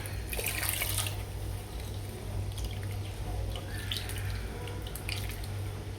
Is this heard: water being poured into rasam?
yes